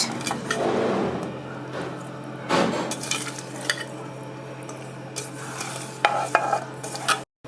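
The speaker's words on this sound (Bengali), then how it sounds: "এবার দিয়ে দিচ্ছি পরিমাণ মতো হলুদ লবণ এবার দিয়ে দেবো মাছ" River fish is added to a pan with tomato, turmeric and salt, with close clattering, stirring scrapes and a bed of sizzling that swells in bursts.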